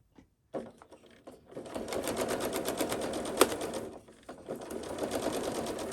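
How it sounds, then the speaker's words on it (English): A sewing machine stitches the top seam of a pleated fabric mask, starting after a short pause with a close, steady rapid rattle, then a brief slowdown before another run of stitching. "Then I'm going to sew at the very top."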